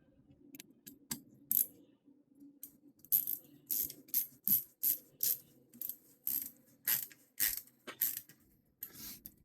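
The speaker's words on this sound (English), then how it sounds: "These get torqued down to 20 Newton meters or 15 foot-pounds." A wrench tightens bolts on the jake brake of a Detroit Series 60 12.7 diesel engine, giving a steady run of close, crisp metallic ratchet clicks in regular bursts with no talk.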